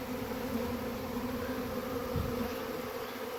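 Honeybee swarm buzzing around a beekeeper during a swarm catch, a dense continuous drone of many bees close by, with no talk.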